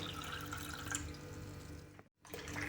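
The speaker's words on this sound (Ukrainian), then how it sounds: "Між банками наливаємо холодну воду." Steady pouring of cold water into a pot between glass jars, with a soft continuous wash and faint drips, brief pause near the end, then pouring resumes; quiet and close.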